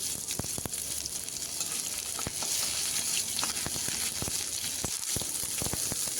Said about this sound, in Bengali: তিন সেকেন্ডের মতো আমি মশলাগুলো একটু কষিয়ে নিচ্ছি।